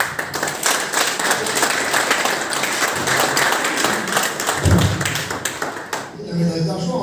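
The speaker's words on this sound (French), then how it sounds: "On peut l'applaudir." An audience at a silver medal award ceremony in Majunga, Madagascar claps steadily in a dense, sustained round of applause that fades out near the end as a voice begins to speak.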